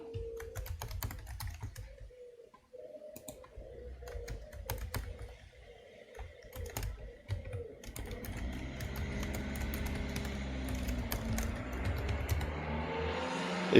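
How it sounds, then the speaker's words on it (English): Keys clack on a computer keyboard as personal details are entered on a sign-up form, a steady patter of irregular taps that continues under a rising background hum. "So type in your personal details."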